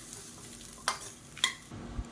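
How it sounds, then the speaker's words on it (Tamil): Grated coconut being sautéed in a hot kadai, with a soft sizzle and a few scraping stirs of a spatula against the pan, quiet and close with no voices. "அந்த சூட்டிலே வதக்கி விட்டுக்கோங்க"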